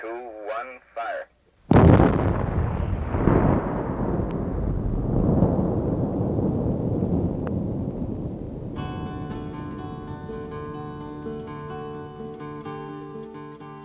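Open-pit mine blast at the Anaconda mine in Butte, Montana: after a brief radio voice, a sudden loud low boom hits and rolls into a long, heavy rumble that slowly fades, with music rising over the tail.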